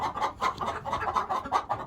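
A flock of chickens clucks continuously at close range, a busy overlapping chatter of short calls with no pauses, in a yard where a big turkey keeps them scared.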